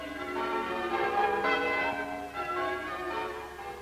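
Bells peal from an old church in a 1950 mining community, a continuous, fairly distant ringing with overlapping tones and no speech.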